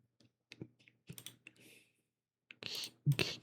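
Keys on a computer keyboard tapped in short irregular bursts while setting up a custom character sprite for a Limbonia mod, close and fairly quiet with gaps between clusters of clicks.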